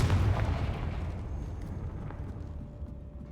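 A booming fire-spell explosion from the game Hogwarts Legacy opens with a heavy, loud burst, then a rumbling roar slowly fades over several seconds, with no voices.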